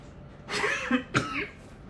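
A person coughs twice, close and moderately loud, against a quiet background.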